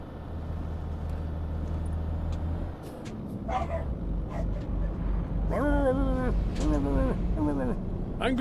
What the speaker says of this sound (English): Angry dog. Small dog syndrome.